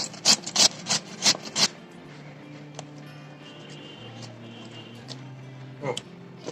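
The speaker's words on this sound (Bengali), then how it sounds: "এই যে আমার লাউ কাটা হয়ে গেছে" A knife cuts bottle gourd in five quick, rasping strokes close by, followed by a quieter stretch with only a couple of isolated cuts.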